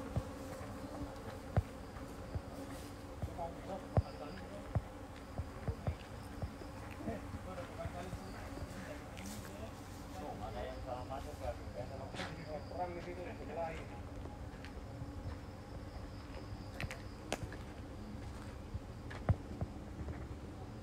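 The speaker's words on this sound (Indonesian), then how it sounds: "Nah ini adalah lebah, sarang lebah yang akan menghasilkan madu." Honey bees buzz continuously around a honey-producing hive, a steady low drone with darting insect passes near and far, while voices murmur in the background.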